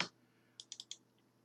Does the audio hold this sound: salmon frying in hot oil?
no